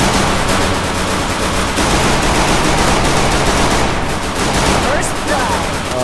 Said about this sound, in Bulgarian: То ще е изстрел.